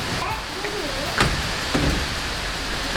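Steady rain hissing on surfaces outdoors, a constant wash of noise with a couple of brief knocks and a faint voice in the background.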